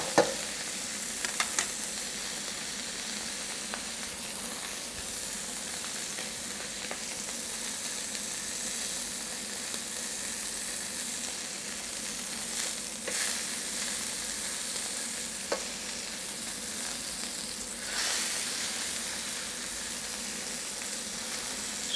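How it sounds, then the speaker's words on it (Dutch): Beef tenderloin searing in a hot frying pan, turned to brown on both sides, gives a steady, close, crackling sizzle with a few sharper pops and spits near the start. No one speaks. "Dus zorg echt dat die mooi goudbruin gebakken is om en om."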